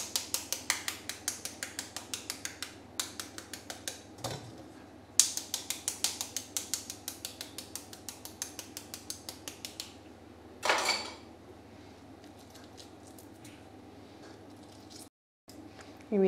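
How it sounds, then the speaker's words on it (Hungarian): Boiled eggs being peeled by hand in a home kitchen: rapid, rhythmic bursts of dry tapping and crackling shell, close and fairly quiet, broken by a couple of brief knocks and pauses. "Addig a tojásokat megpucoljuk."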